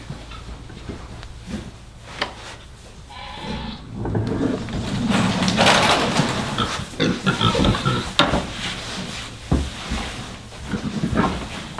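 Several pigs grunting and squealing close by on a homestead, with busy overlapping calls that grow louder and more frantic midway.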